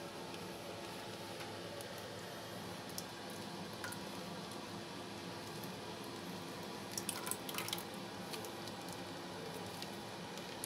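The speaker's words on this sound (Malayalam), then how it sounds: "നമ്മൾ കഴുകി വെച്ച പാത്രത്തിലേക്ക് ഒഴിക്കുക." Milma curd from a packet poured into a washed vessel, a soft, wet squishing and patter at low level with a few brief splashy bursts near the end, no talk.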